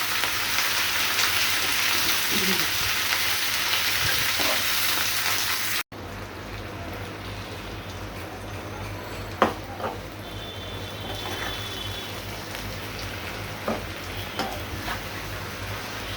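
Leafy greens fry in a small wok after a spice paste, with a continuous hiss, broken by occasional spatula scrapes and light clinks against the pan; no voices.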